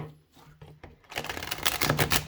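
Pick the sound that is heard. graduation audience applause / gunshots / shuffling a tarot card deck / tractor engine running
shuffling a tarot card deck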